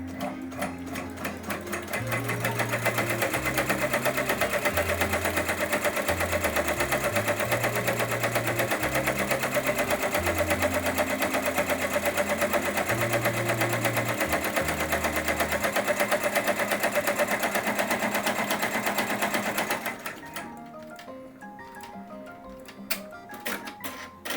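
An embroidery machine stitches down a fabric piece for an in-the-hoop Halloween treat bag, a loud steady mechanical whir with shifting stepper tones running about twenty seconds before stopping and leaving quiet handling noise.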